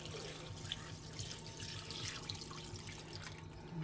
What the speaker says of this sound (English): We're going to add our broth mixture that we mixed our teriyaki sauce and everything else into.